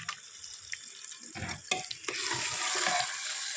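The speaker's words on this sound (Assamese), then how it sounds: "চাউলখিনি ভাল কৰি ভাজি ল'ম" Rice fries in a pan with soft scraping stirs early on, then a steady close hiss and sizzle builds and holds to the end.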